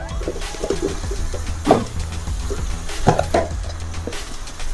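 Water is poured into a pan of bean and potato curry, with two splashy surges of liquid over a steady low rumble, close and fairly loud.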